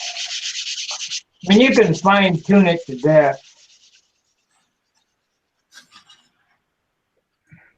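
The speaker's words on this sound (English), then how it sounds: "Now you're sanding." Hand sanding on a workpiece, a steady rubbing scrape for about a second, then someone talks briefly, followed by quiet with a few faint scuffs.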